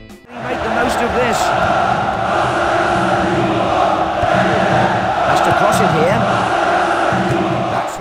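Galatasaray fans chant in a FIFA video game, a dense, loud stadium crowd roar with rhythmic shouting that holds steady throughout.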